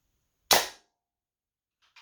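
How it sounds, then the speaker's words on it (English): A Beeman Raider air rifle fires a single 33-grain pellet: one sharp, loud crack near 0.5 s that decays quickly into silence, followed by a faint brief clatter near the end. "So this will be my first shot in feet per second, but my third shot on the cylinder."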